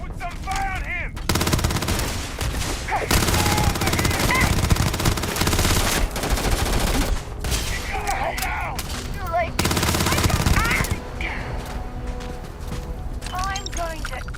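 Sustained bursts of automatic gunfire in the Starfield video game, loud and close, in long rapid volleys broken by brief pauses, with voices speaking between and over the shots.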